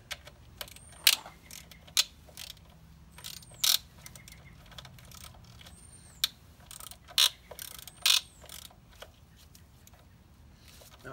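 Distributor cap being worked loose and pulled off a 1999 Honda Civic 1.6 engine: sparse, sharp plastic-and-metal clicks and clacks, close up, with quiet gaps between them.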